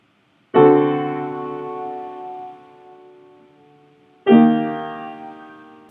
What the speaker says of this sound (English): Here's the sound of a deceptive resolution.